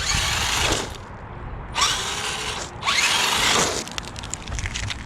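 The electric motor of an RGT EX86010-CJ 1/10 scale RC rock crawler spins its wheels in three bursts, each a loud high whine that rises and cuts off, with a quieter drivetrain whir in between.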